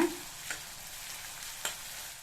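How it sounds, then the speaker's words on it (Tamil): Chopped onions fry with mustard seeds in hot oil for hotel-style kaara chutney, a soft constant sizzle broken by two quick stirring scrapes, quiet and close with no talk. "இந்த வெங்காயத்தை ஒரு நிமிஷம் போல் எண்ணெயிலேயே நல்லா வதக்கி விட்டுக்கோங்க"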